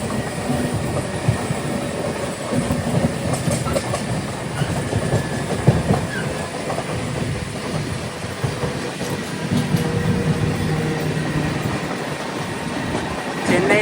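Chennai local train and express train running side by side, one overtaking the other, with a steady rumble and rhythmic clatter of wheels on rails heard from aboard, continuous and fairly loud.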